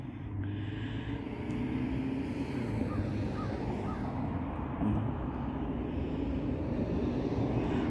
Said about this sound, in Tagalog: naririnig na ng huni ng uwak